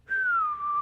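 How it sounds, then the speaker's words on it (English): A single person whistles one clear sustained tone that glides slowly downward in pitch, close and fairly loud, with no talking around it. "You can whistle."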